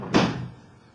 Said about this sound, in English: Let me close the door so the birds don't